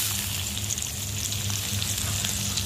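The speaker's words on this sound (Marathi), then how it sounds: "याच्यात आता कांदा आणि टोमॅटो आपण टाकून घेऊ परतण्यासाठी" Onion and tomato fry in hot oil with cumin and a pinch of asafoetida. A dense, continuous sizzle runs steadily and close throughout, with no talking.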